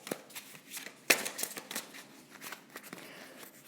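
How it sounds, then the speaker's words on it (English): Playing cards are shuffled and a single connection card is pulled from the deck: a quick, soft, close flurry of riffling snaps and flicks, with no talking. "I'm going to pull a connection card for you"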